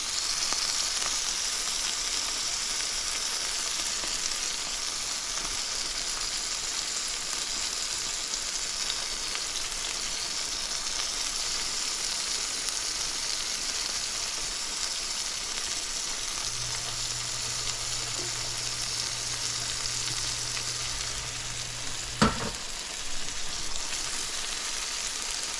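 Corned beef sizzling steadily in a frying pan with potatoes and carrots, a continuous close hiss of frying throughout with a faint low hum partway and a single sharp clink near the end.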